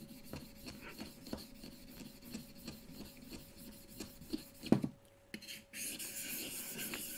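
A bench plane blade is honed on a sharpening stone, with close, rhythmic rasping strokes repeating steadily before a short pause and a brighter, hissing scrape at the end. No one speaks.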